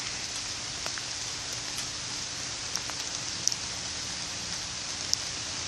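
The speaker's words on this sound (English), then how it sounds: "you can see the rain pelting down behind me as I'm going." Rain pelting down outdoors on a rainy Sunday, a steady broad hiss with scattered sharp drop ticks, heard alone at moderate level.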